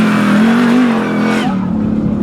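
A car revs hard on approach in the off-road arena at the Goodwood Festival of Speed 2022, a loud close engine drone rising in pitch then dropping sharply as it passes.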